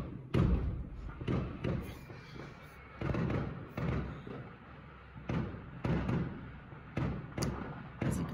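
Fireworks boom again and again at irregular intervals, heavy thuds echoing from a short distance over a steady background hiss.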